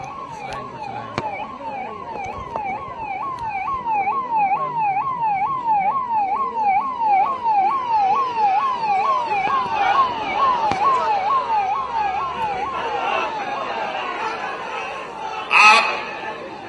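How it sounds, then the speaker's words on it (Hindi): An ambulance siren wails in a repeating rising-and-falling pattern while stuck in a dense crowd at a political gathering in Jharkhand, India, moderately loud amid crowd murmur and a short burst of cheering near the end. "जरा यहां एम्बुलेंस फंस रहा है, इसको एम्बुलेंस को फंसने ना दे, एम्बुलेंस को निकाल दो"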